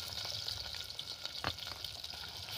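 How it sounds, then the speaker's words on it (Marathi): Ground masala paste fries with browned onion in hot oil, giving a steady, hissing sizzle with faint stirring scrapes, close and fairly quiet, with no speech. "आता खलामध्ये बारीक केलेला पेस्ट टाकूया"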